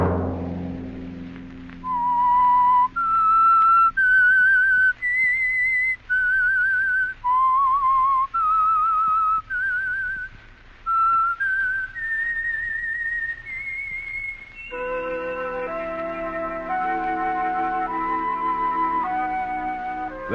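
A whistled theme melody, the signature tune of The Whistler radio mystery show, carries a clear wavering line of notes alone for about thirteen seconds, then gives way to an orchestral passage.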